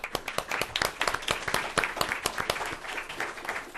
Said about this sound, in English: Let's give a little applause.